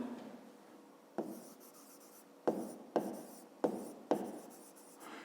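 Pen strokes on paper scratch out close and quiet, a soft scribble followed by five sharper strokes in quick succession, each fading into light rubbing.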